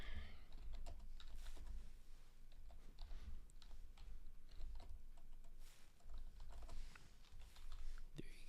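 Typing on a computer keyboard, irregular quick clicks and taps at a slow, uneven pace, close up but quiet, with faint room noise and no talk.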